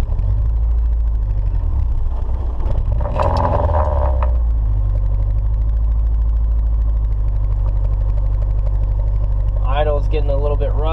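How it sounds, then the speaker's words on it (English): Turbocharged Nissan 240SX engine idling roughly while being treated with Sea Foam, heard as a loud, close, steady low rumble with a brief surge partway through and a voice near the end. "Idle's getting a little bit rough"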